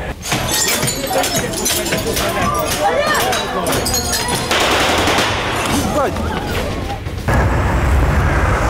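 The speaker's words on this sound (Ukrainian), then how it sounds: "Стріляли зсередини, з приміщення, з кулемета." Machine-gun fire shot from inside a building toward a crowd gathered outside, rapid bursts and cracks running through dense, loud chaos with people shouting and talking over it.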